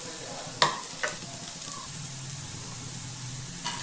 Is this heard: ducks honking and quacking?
no